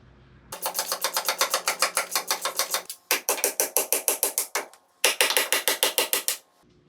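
Ratchet wrench loosening the front IFS bolts on a Chevy 2500 during a solid axle swap, three close, loud bursts of rapid rhythmic clicking separated by short pauses.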